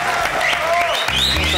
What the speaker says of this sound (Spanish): Creo que le demos un fuerte aplauso a Rodrigo